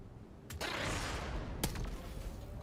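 A fusion grenade hits an enemy in the Xenonauts 2 strategy game as a rushing, crackling blast that swells and holds, then a sharp second crack near the end, all fairly quiet.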